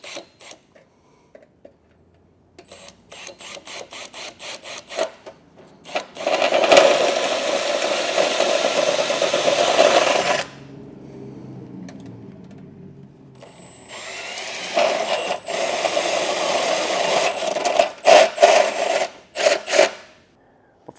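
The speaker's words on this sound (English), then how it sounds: "I'm just going to take a hole saw" Hole saw cutting through a metal heat shield under a 2023 Subaru Forester during a trailer hitch install, several bursts of harsh grinding and rasping separated by brief pauses and a quieter stretch, close and fairly loud.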